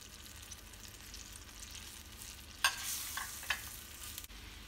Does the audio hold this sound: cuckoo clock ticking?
no